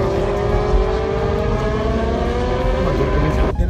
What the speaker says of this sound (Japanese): 走ってる映像もね。 レースの練習走行かな。